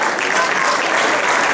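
Crowd at a youth rugby tournament prize-giving clapping for the RFC Argenteuil under-15 team: dense, loud, continuous applause for a brief moment.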